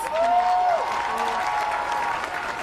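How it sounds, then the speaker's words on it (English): Protesters applauding outside Kansas City City Hall at a Black Lives Matter rally, sustained clapping from an outdoor crowd with a brief whistle-like tone early on, moderately loud and steady. "Give yourselves a round of applause."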